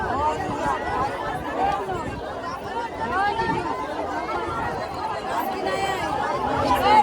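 Dense crowd chatter fills a busy fish market in Harnai, Dapoli, a steady babble of many voices close around with no single voice standing out, holding at an even loudness throughout.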